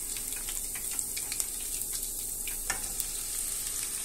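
Green chillies frying in a pan give a steady, close hiss and crackle of hot oil, with scattered small pops and light clicks throughout, no voices.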